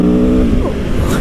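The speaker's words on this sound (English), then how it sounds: "It's a proper V4 sound." A V4 motorcycle engine on a 2021 super naked bike revs loudly and close, its pitch climbing and then shifting in one short burst.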